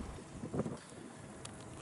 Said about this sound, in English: It got really windy.